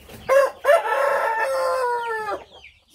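A rooster crows up close among chickens, giving two short calls and then one long, drawn-out cock-a-doodle-doo, with faint clucking around it.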